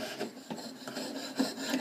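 Steady hand saw strokes rasp back and forth in a quick, even rhythm, close and moderately loud, with no voices.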